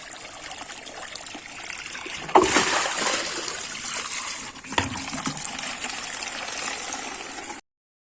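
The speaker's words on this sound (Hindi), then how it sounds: "देखिए पीने का पानी कैसा आ रहा, इतनी गंदी बदबू आ रही है।" Dirty drinking water contaminated with drainage water pours from a household tap, a steady splashing gush that swells suddenly louder partway through and keeps running close before cutting off abruptly.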